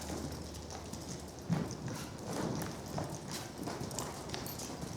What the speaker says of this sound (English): And let's see if she'll lope off, Alex.